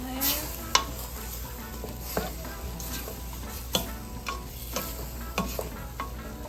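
Onion cooking in a pan for Mexican hamburger-and-shells conchitas, a quiet constant sizzle with regular light taps and scrapes of a spoon stirring, no talking.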